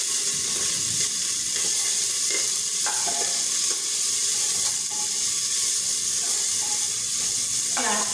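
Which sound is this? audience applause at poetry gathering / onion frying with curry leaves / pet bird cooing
onion frying with curry leaves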